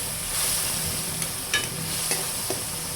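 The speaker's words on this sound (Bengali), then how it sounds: "লবণ আধা চামচ দিয়ে ভালোভাবে কষিয়ে নেব।" Snakehead fish head stir-fried in a pan with chili powder, garlic and salt sizzles steadily up close, with several quick spatula scrapes and clinks against the pan; no voices.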